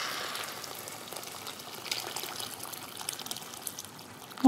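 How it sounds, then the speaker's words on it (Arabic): Boiling water is poured into a cooking pot on the stove, a steady trickling pour that rises into a louder splash at the end. "سنزل بالميه المغليه"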